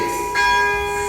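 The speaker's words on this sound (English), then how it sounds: "even as we listen to the tolling of the bell, the ringing of the bell" A church bell tolls for Emancipation Day in Jamaica, a single sustained ringing stroke whose tone hangs steadily over a low background hum.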